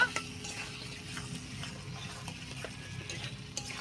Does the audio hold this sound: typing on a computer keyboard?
no